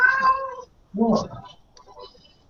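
A cat meows twice, close and clear, with a short gap between the calls and a fainter murmur trailing after.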